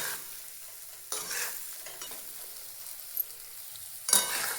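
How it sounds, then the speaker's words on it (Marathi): Pieces of masvadi are stirred into a spicy masala gravy with a spoon over low heat. Two louder scraping strokes and a few soft clinks sit over a faint, steady sizzle. "छान सर्व मसाला वड्यांना लागण अशा पद्धतीने मिक्स करून घ्यायच्या"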